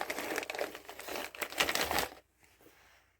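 A large plastic bag of SMC metal chips, kept for gold recovery, is handled up close, giving about two seconds of loud, steady crinkling and rustling that breaks off into near silence with a few faint rustles.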